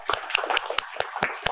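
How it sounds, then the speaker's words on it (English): A small audience at a startup ecosystem panel claps briefly, sparse separate hand claps close by with gaps between them, no talking. "So big round of applause for them to start with"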